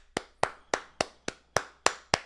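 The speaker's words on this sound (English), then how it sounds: "You got to clap it up." Hands clap eight times at a slow, even pace, each sharp, close clap ringing briefly before the next.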